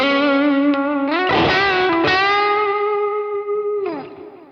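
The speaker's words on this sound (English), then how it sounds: "Here's a tube screamer." Electric guitar overdriven through a Tube Screamer pedal in a digital amp modeler, playing a few loud sustained notes and slides with a crunchy, harmonically rich tone that fades at the end.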